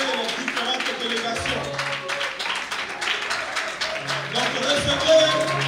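Church congregation applauding a Baptist pastor at an evening gathering, a steady wash of clapping and cheering over loud music, with voices calling out throughout.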